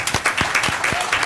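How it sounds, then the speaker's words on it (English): A brief round of applause breaks out at a Toronto press conference, a crowd's quick, close hand claps packed into just over a second. "Those three answers right there definitely deserve a round of applause."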